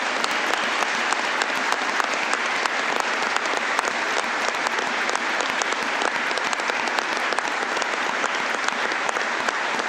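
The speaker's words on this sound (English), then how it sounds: "In honor of Justice Dickson's retirement, may we give him a round of applause." Dense, sustained applause from a courtroom audience at Justice Dickson's retirement ceremony, steady and even in loudness for the full stretch with no voices above it.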